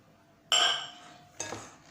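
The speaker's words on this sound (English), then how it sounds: "I will add this sugar" Sugar goes into a mixing bowl for madeleine batter, giving two distinct clinks a second apart, the first bright and ringing with a short metallic tail, the second softer.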